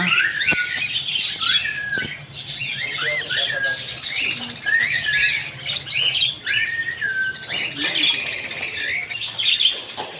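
Cockatiels at a Pabna Kashinathpur bird and pigeon market chirp and squawk in a busy, overlapping chorus of repeated calls close by, with people talking underneath.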